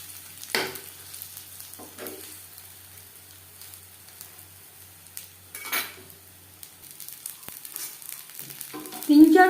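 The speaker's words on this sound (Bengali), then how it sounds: "তিন চারবার উল্টে পাল্টে ভেজে নেব।" Fish fries in a pan while being turned over, soft sizzling with a few scraping and clinking utensil sounds at intervals, quiet overall with a louder clatter at the close.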